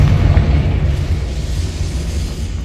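The Confringo blasting spell explodes in Hogwarts Legacy, a loud, dense low rumble that holds steady for under three seconds and slowly fades.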